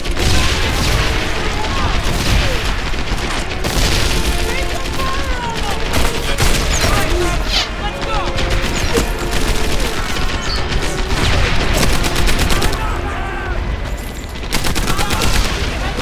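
Loud, relentless gunfire and booming grenade and artillery blasts in Medal of Honor Airborne during a beach bunker assault; rapid rattling bursts and heavy thuds overlap continuously while someone talks over the battle.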